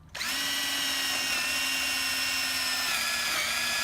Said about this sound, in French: On va percer.